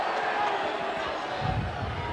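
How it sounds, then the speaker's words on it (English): A rugby league playoff crowd at Leeds versus Castleford, 1990, roaring and cheering in a loud continuous wash of noise, with a commentator talking over it. "the crowd certainly fired up"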